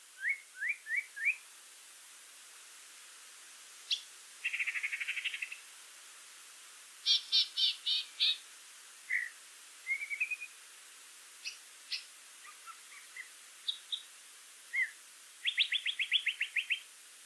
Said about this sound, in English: it's just a bird just making up a bunch of different sounds here. Yellow-breasted chat.